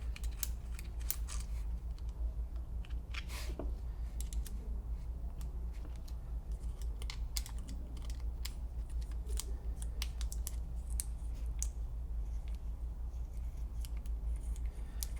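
Small screws being worked out of the frame of a Planet Eclipse Emek 100 mechanical paintball gun, heard as scattered light clicks and metallic ticks over a steady low hum, close up with no talking.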